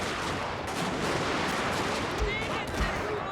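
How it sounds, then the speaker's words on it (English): Massed gunfire crackles through a battle in Total War: Shogun 2 Fall of the Samurai, at the Battle of Hakodate: a dense, continuous din of overlapping shots and volleys with a few heavier low thumps. "And I just dodged that gunfire as well"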